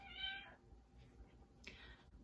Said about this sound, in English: just gonna have meowing cats throughout this video, I guess, or a meowing cat